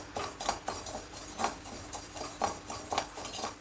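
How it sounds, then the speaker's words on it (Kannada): Rice dry-roasting in a pan at home for sambar powder, with a few light metallic clinks and scrapes of the spatula against the pan at irregular intervals over a steady low background. "ಅಕ್ಕಿ ಹುರಿತಾ ಇದ್ದೀನಿ ಅಕ್ಕಿನ ಕೂಡ ಹದವಾಗಿ ಚೆನ್ನಾಗಿ ಫ್ರೈ ಮಾಡಬೇಕು"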